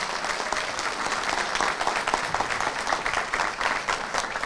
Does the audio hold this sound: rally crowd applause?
yes